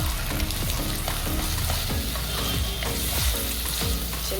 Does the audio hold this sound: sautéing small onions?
yes